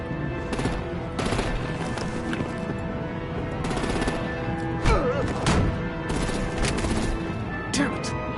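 Gunfire and artillery in the Telltale Batman game: bursts of shots and sharp blasts crack out irregularly over a steady din, with voices talking in between.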